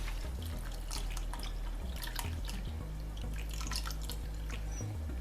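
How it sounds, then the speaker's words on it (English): Milk poured into a pan on a gas stove for Indian masala chai, a steady close splashing, trickling stream running continuously throughout. "Now we're going to simmer the gas and put our milk in."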